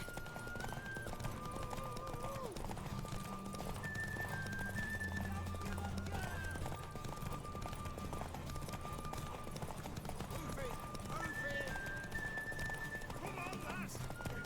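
Horse hooves clip-clop and gallop during a race in The Witcher 3, with whinnies and music throughout, and character voices talking over the action.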